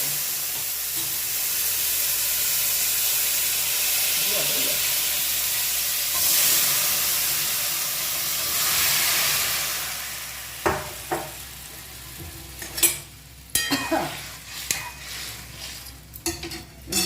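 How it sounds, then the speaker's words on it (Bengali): Whole cumin seeds hit hot oil in a kadai for a hilsa fish curry, giving a steady hiss that later breaks into crackling pops and clinks near the end. "তেলটা গরম হয়ে গেছে দিয়ে দিচ্ছি ফোড়নে গোটা জিরে"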